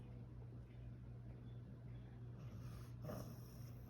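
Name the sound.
puppy sighing in crate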